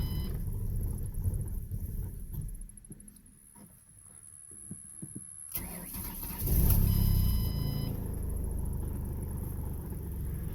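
A 2008 Mustang V6 with newly installed head gaskets and a weak battery cranks and catches after a quiet stretch on a hot day, then settles into a loud, steady rumbling idle close by.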